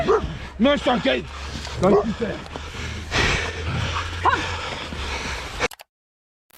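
Several dogs bark and yip rapidly in a woodland encounter, close and loud over someone shouting, before the sound cuts off abruptly.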